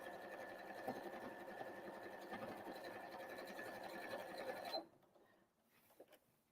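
Sewing machine stitching a fabric Christmas tree napkin, a close, fast steady rattling hum that stops abruptly near the end, followed by a few faint clicks and handling sounds.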